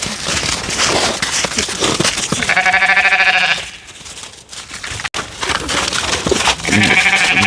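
Sheep and lambs bleating on a farm by a forest house, two long harmonic bleats up close with rustling and handling noise between them.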